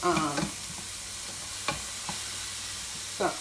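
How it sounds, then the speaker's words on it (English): Onion and cauliflower sizzle in a stir-fry pan, a steady close hiss broken by a few short clatters and scrapes of stirring. "Now this is just a simple little stir fry."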